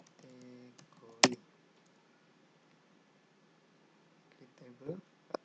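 SQL being typed on a computer keyboard gives sparse, soft key clicks with one sharper tap, fairly quiet against faint room noise, with brief voice sounds at the start and end.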